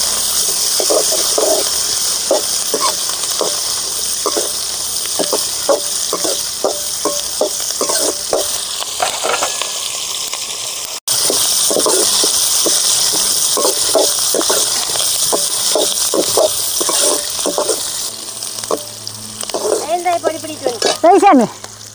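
Big onions fry in a pan for a river dry fish curry, a steady loud sizzle broken by rhythmic scraping strokes of a stirring spoon, with a brief pause midway and louder clattering near the end.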